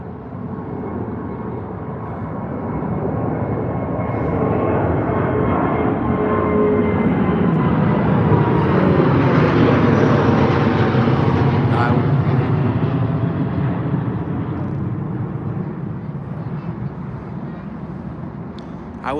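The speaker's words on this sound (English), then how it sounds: "British Airways 787-9 heading off to, I have no idea where that is, India." A British Airways Boeing 787-9 taking off from London Heathrow, a loud, sustained jet roar that swells to a peak midway and then slowly fades as the aircraft climbs away.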